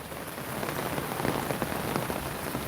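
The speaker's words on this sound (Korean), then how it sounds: "빗방울이 조금 가늘어진 것 같습니다 여러분" Steady rain patters on a surface nearby, with scattered louder drops ticking over a continuous soft hiss.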